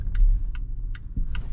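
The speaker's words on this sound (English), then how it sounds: "indicator sound in this car also feels very refined and very elegant" The turn indicator of a 2026 Volvo XC90 T8 AWD facelift ticks in the cabin during a night drive, four soft, evenly spaced clicks over a low road rumble.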